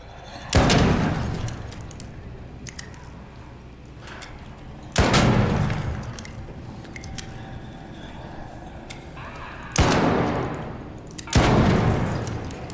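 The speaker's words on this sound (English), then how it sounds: "I'm freaking shooting these guys" Gunfire in the ARC Raiders shooter game: four loud, sharp bursts spread across the stretch, each with a booming low tail, over a steady bed of game ambience.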